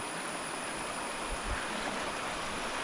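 The Thodupuzha river near Moolamattom in Idukki rushes past in a steady, broadband roar of flowing water, close and unbroken, with no voices.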